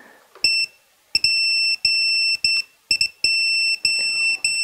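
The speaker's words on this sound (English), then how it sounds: "The battery low beep." Repeated loud high-pitched electronic beeps from a Mobula7 micro drone's low-battery warning, sounding in steady bursts of long tones separated by brief gaps, close and alone without talk.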